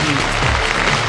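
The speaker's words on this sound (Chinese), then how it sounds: "好，我们再次用掌声欢迎张子琳来到我们现场" An audience applauds to welcome a contestant at the Miss World China 2010 pageant, a brief dense burst of close clapping.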